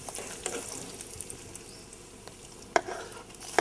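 Curry leaves fry in hot oil while being stirred, a faint soft sizzle and hiss with a few sharp clicks of a spoon against the pan near the end, quiet and without talking.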